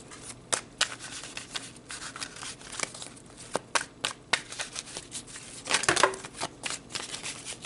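Tarot cards are shuffled by hand close up in quick, papery riffles and soft slaps, with a burst of flicking near the end as cards fly out, all fairly quiet and without talk.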